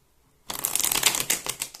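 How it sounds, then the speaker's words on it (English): A deck of tarot cards gets a hard riffle shuffle, a sudden dense flurry of crisp flapping card snaps that starts after a short silence and runs close and loud to the end. "I've already shuffled this deck very thoroughly for you, but what I'm going to do is I'm going to give it 2 more hard and 2 more soft."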